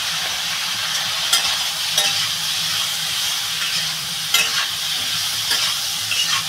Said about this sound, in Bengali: তরকারিটা বন্ধুরা ভালো করে কষাবো।